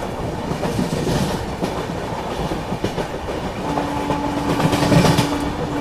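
A train runs past Katni South station on the Mumbai to Varanasi line: a steady, loud rumble of rolling coaches with clickety-clack wheel beats and a faint horn tone partway through, no voices.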